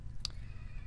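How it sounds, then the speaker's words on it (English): A horse from the Mo' Creatures mod in Minecraft gives one short, bright whinny over a low steady hum of game background noise. "this is a horse"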